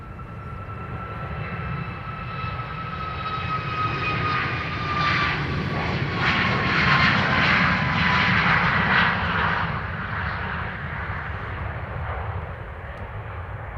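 Ryanair airliner departing Dublin Airport, its engines roaring as a broad steady rumble with a whining tone that swells and peaks midway, then slowly eases, heard alone from a distance.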